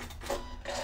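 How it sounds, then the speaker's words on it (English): A sewing machine's built-in thread cutter snips thread while a narrow rolled hem is sewn, a short near mechanical whir and click from the machine. "Thread cutter,"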